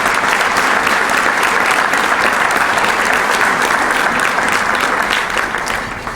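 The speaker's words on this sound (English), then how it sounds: "Let's have a round of applause for the Mohegan Tribe and Kevin." An audience at a veterans' support breakfast applauds, with dense, loud and continuous clapping that fills the room and fades slightly at the very end.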